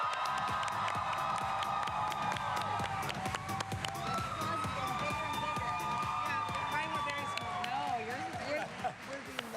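A convention audience at a New York Comic Con 2018 panel cheers and screams continuously, a loud, dense crowd roar with scattered claps and shouts. An amplified voice talks over it.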